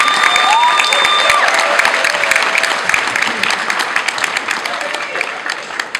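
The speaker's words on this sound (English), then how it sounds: "give your parents a round of applause for their presence" A graduation ceremony crowd at Northside High School in 2014 applauds the graduates' parents with loud, sustained clapping, cheers and whoops filling a large hall.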